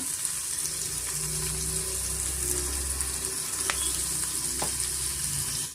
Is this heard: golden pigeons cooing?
no